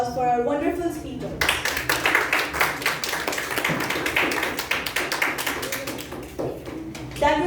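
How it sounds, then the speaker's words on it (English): An audience at a Periyar YLP 2022-23 event applauds the speakers with dense, sustained clapping that follows a brief spoken line and continues loudly for several seconds. "Another ecstatic round of applause for our wonderful speakers."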